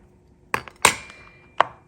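A wax chopper cuts through wax in three sharp chops, close and loud with short ringing tails, the second strike strongest.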